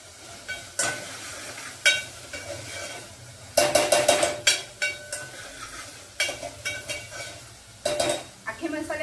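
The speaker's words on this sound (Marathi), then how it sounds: "कांदा शिजायला आपल्याला वेळ लागतो थोडासा गॅस फास्ट करते जेणेकरून पटकन कांदा शिजेल" Onions frying in a pan over a high gas flame while being stirred for misal pav, with a steady sizzle under repeated scraping and clinking of a spoon against the pan, bursts of louder stirring coming and going throughout.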